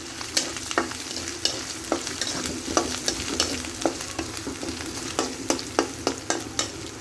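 Turmeric and chili powder are stirred into frying desi chicken curry in a pan, with a steady sizzle under repeated sharp scrapes and clinks of the spoon at an uneven rhythm, close and clear.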